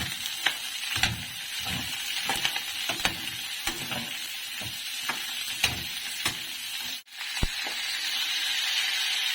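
Mixed vegetables, including carrots and Baguio beans, stir-fry with a steady sizzle while a utensil scrapes and clacks against the pan in a regular rhythm, broken by one brief pause; no talking.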